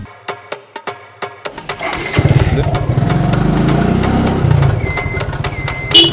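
A motorcycle engine starts after a few sharp clicks and settles into a steady, loud idle close by, with a brief squeaky tone near the end.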